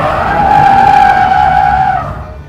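A loud, sustained tire squeal from a car drifting on a track under handbrake holds for about two seconds, then fades quickly.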